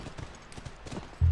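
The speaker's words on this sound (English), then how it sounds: "That's our horse." Hooves of a horse clip-clopping in The Last of Us, a quick run of soft hoof falls that ends in a sudden loud low rumble.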